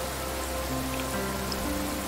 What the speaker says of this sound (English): That's just rain. I love the rain.